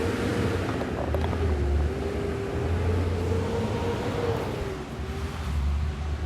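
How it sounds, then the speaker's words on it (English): Garbage truck passing nearby: a steady, loud engine drone with a low hum and a mid-range whine that holds for several seconds, slightly easing toward the end, with no talking. "It was actually a garbage truck."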